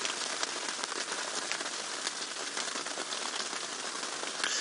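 Steady rain patters and hisses on surfaces during an evening safari game drive in the bush, a dense, even wash of sound with scattered sharper drops and no voices.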